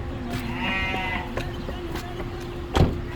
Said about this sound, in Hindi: बकरा है